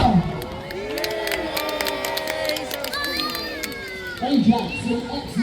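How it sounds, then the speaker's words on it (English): An outdoor park crowd cheers and shouts at a staged naval battle re-enactment on a lake, children's high voices prominent in a sustained, lively roar, swelling again near the end. "Let's have a cheer, come on!"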